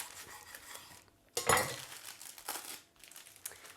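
A knife slices through a shrimp, avocado and lettuce sandwich, giving a close, crinkly crunch of bread and lettuce with one strong cut and a few softer scraping follow-ups.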